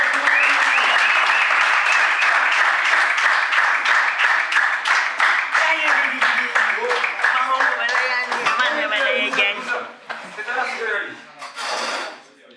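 Audience at a talent competition applauding the third-place act, a dense, loud burst of many hands clapping that carries on steadily, then thins out and fades toward the end, with voices mixed in.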